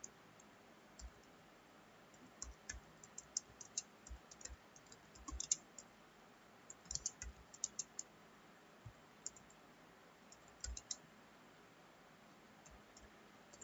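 Keys on a computer keyboard tapped in short irregular bursts while an HTML program is typed into Notepad, the clicks faint and close against a quiet hiss with no talk.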